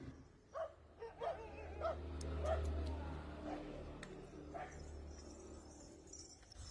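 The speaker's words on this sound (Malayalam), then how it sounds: "ഇവിടെ നിന്നാണ് തെരുവുനായ്ക്കൾ ഓടിയെടുക്കുന്നത്." Street dogs barking and yipping in a series of short, sharp bursts over a steady low rumble, with a voice talking underneath, in a street near a Theyyam ritual procession.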